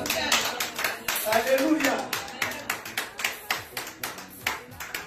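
A church congregation claps in unison, steady rhythmic hand claps in a reverberant hall, with voices shouting and praising briefly over the beat early on.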